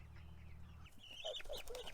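Chickens move about in grass outdoors, with soft clucks and chirpy bird calls over a low hum that cuts out early, all faint and close.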